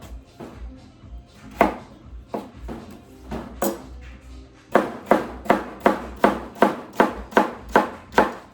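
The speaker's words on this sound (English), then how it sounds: "Okay, so now we're just gonna make strips and then cut into 1/2-inch cubes." A very sharp knife chops vegetable strips into half-inch cubes on a cutting board, first in scattered single knocks, then in a quick, even run of about a dozen crisp, close chops.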